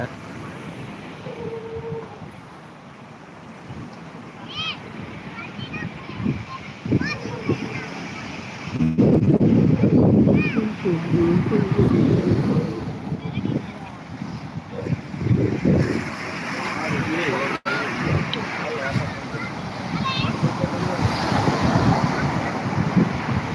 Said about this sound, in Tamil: நல்ல கடல் காற்று வாங்கிட்டு சூப்பராக இருக்குது